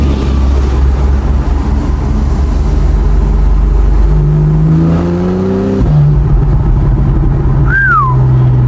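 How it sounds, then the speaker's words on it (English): A Porsche 911 exhaust in Sport Plus mode, heard from inside the car, is a deep, loud drone that climbs in pitch as it accelerates, drops sharply at a shift, then carries on steadily, with a brief whistle near the end. "Yo, listen to the exhaust."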